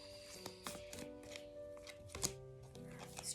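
Tarot cards being shuffled and drawn, soft close-up riffles and light slaps of card stock in short, uneven bursts, quiet against faint sustained background tones, with no talking.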